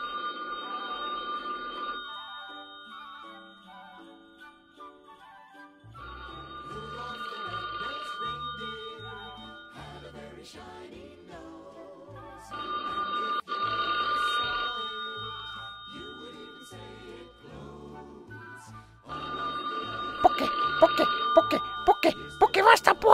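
A telephone rings repeatedly in a Christmas-themed Finnish show, the electronic bell tone returning in bursts between stretches of speech and light background music.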